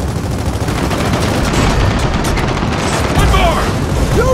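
Battle in the Gears of War 4 campaign as bombs are launched at a turret, a dense, loud wall of gunfire, booms and blasts with wind, while players' voices shout over the din.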